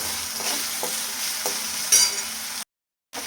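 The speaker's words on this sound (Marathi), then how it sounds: "आता आपल्याला हे छान परतून घ्यायचं. अर्धा ते 1 मिनिट आपण याला परतून घेऊया." Sabudana khichdi with potatoes sautéed in a pan, a soft sizzle under a few scraping stir strokes, with a brief silent gap near the end before the frying resumes.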